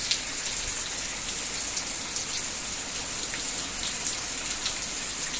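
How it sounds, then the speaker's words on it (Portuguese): Heavy rain pours down steadily, a dense, constant hiss of water falling on surfaces, with no voices. "A chuva é muita, a chuva é muita."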